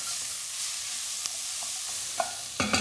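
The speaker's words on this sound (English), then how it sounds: "Give it a good stir up, just to kind of loosen those juices off the base of the pan." A spoon stirs sizzling pan juices loose from the base of a pan of shepherd's pie filling, a steady close frying hiss with a few sharp scraping knocks near the end.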